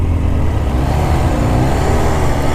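A 2018 Kawasaki Ninja H2 SX SE motorcycle engine running with throttle applied, a loud, close, steady engine drone with a slight rise in pitch partway through and no talking.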